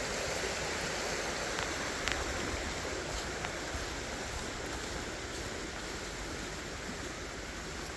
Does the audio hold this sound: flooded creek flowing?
yes